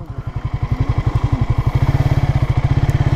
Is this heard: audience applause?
no